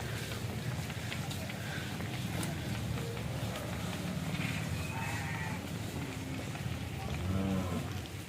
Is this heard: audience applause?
no